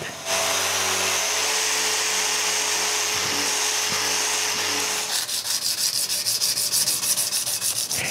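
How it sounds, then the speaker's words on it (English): Steady, loud abrasive rubbing of sanding wooden tool handles over a low machine hum, turning into quicker back-and-forth hand strokes toward the end. "I sand all their visible parts and finish the sanding by hand"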